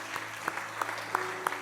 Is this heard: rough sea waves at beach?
no